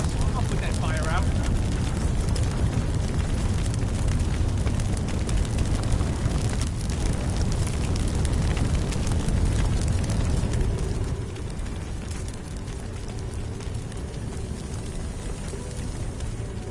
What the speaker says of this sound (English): I'll put that fire out.